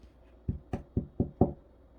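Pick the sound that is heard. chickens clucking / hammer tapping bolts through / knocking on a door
knocking on a door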